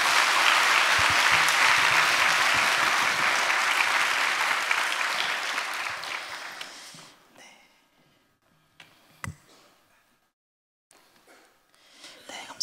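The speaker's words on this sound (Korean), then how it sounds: "우리 힘찬 박수로 맞이하겠습니다" A church congregation at a Sunday service applauds warmly and steadily for about seven seconds, then the clapping fades away into near silence with a few stray sounds.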